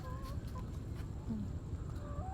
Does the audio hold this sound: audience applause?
no